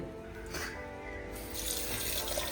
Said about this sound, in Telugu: ఇప్పుడైతే మా అమ్మ అయితే మటన్ అయితే కడుగుతుంది